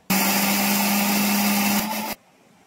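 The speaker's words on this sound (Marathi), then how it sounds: "आता अशाच प्रकारे मी तांदूळ पण वाटून घेते" A kitchen mixer grinder whirs loudly and steadily for about two seconds, grinding soaked dal and rice into idli batter, then cuts off abruptly.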